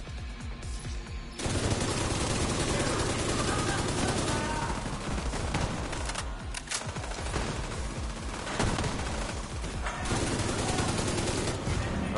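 Gunfire in a video game hostage situation, heard as dense, sustained rapid bursts of shots, loud and continuous after a brief quieter opening, with brief gaps between volleys.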